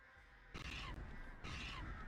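Crows caw twice in a video game, two harsh, raspy calls in quick succession over a faint ambient background.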